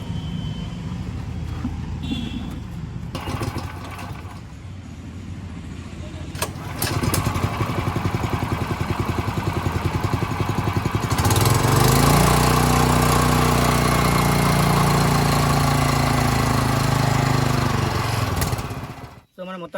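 A Varsha 7hp petrol power weeder engine cranks and catches, then settles into a loud, steady running drone that builds stronger about halfway through and carries on close by until it cuts off at the very end.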